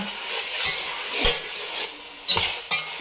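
Chicken pieces sliding into a hot pan while biryani is cooked, a steady close sizzle with a few sharper bursts and clinks of a utensil against the pan, no talking.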